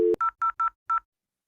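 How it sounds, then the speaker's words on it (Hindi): Telephone number dialed on an IP phone: a short tone and click, then five crisp DTMF beeps in quick, slightly uneven succession, loud and close, then silence. "तो ये टेलीफोन नंबर डायल करने का प्रोसीजर है"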